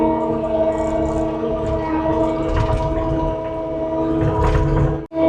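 A 10,000-pound skid steer runs steadily while clearing land and brush among large trees, its loud engine a continuous droning hum with strong tonal layers, close by and with no talking, until a brief dip just before the end.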